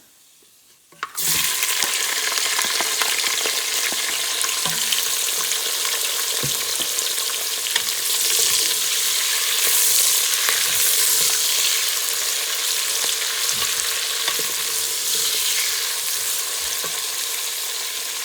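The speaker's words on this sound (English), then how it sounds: "we're gonna fry our onions" Onions frying in oil over medium heat for biryani: a loud, dense sizzle begins abruptly after a moment of quiet and continues steadily, with occasional stirring clatters, close up and without talk.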